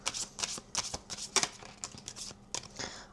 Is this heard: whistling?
no